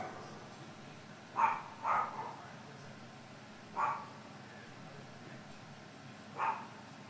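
A dog barks somewhere in the room: four short, fairly faint barks, two close together and then two spaced apart, over a steady background hum.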